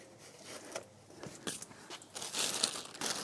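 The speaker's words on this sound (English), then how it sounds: "using just a plain old clear plastic bag" A plain clear plastic bag crinkles and rustles in quick, irregular bursts, close and fairly quiet, as it is handled around a propagated wax jambu cutting.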